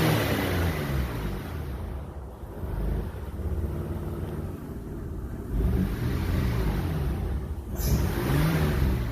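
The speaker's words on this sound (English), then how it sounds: "I'll rev it up." A 1994 Isuzu Rodeo engine, running lean and rough, revs up and down in a few swells over a steady idle, heard close and alone.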